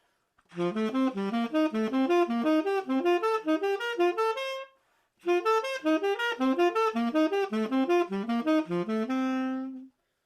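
Triad pair pattern played in triplets on a keyboard-like instrument, quick rising and falling three-note groupings in two continuous phrases separated by a short gap, close and clear with no voices.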